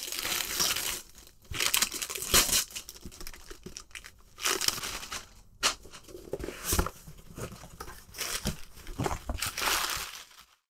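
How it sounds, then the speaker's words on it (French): Christmas gift wrapping paper being torn and crumpled off a package, with bursts of loud crinkling and ripping separated by short quiet gaps, close up and without speech. "Bon, aussi bien déballer ça pendant que t'es encore là."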